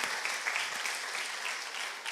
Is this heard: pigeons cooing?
no